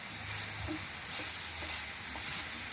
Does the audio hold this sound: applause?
no